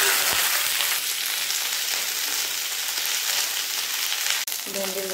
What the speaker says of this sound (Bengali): এরপর ভেন্ডিগুলো ভালোভাবে ভেজে নেব।